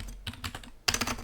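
Quick keystrokes on a computer keyboard while typing React code, a short burst of clustered clicks, a pause, then a louder run of taps close to the microphone.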